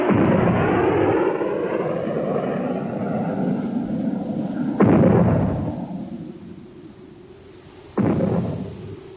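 Naval guns fire during a firing exercise at Mewstone island: a long, heavy roar gives way to two sudden booming blasts a few seconds apart, each rolling off slowly, loud and close.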